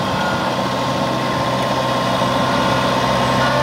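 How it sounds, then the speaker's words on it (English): A farm tractor engine runs steadily at a near, even idle-like drone for a few seconds, alone without talk, during hay cleanup with a rock rake in a barn lot. "now I've got my wife Carmen on a tractor"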